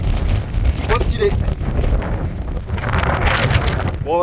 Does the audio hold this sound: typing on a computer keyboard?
no